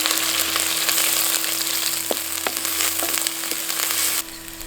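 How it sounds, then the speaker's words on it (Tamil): Ground small onions sizzle and crackle as they are sautéed in hot oil in a pan while a Tamil tamarind curry with green turkey berries is cooked; a steady close frying hiss with scattered pops and no talk. "இப்ப நம்ம அரைச்சு வச்சிருந்த சின்ன வெங்காயத்தை சேர்த்து நல்லா வதக்க ஆரம்பிச்சிடலாம்."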